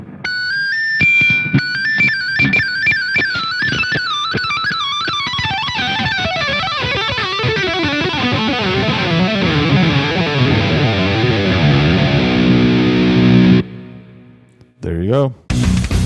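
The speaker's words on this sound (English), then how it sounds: "I'm just gonna slide down the neck from the highest possible note" An 8-string guitar slides continuously down the neck from its highest note to its lowest, a long wavering descending glide played loud and alone, ending abruptly with a brief scrape.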